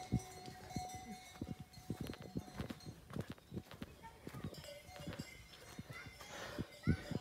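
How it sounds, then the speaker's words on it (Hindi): Horses plod along a forest mountain pilgrimage trail toward Thal Kedar in the rainy season, their hooves giving irregular clip-clop knocks up close amid rustling and an occasional whinny, with people talking over it. "घोड़े भी आ रहे हैं।"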